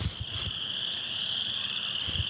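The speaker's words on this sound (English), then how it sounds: "I don't know if you can hear the frogs." Frogs croak in a field in a steady close chorus, with repeated low pulses and a constant high trilling band over light breeze.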